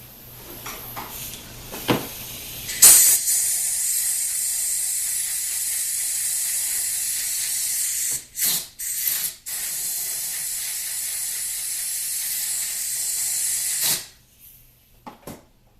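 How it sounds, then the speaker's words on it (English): WD-40 sprayed onto a 5R55W transmission servo bore during repair, then compressed air blowing metal chips away: a short spray burst followed by a long loud continuous hiss with a few brief interruptions, close and without talking. "I'll put a little bit of WD here. Blow off some chips here."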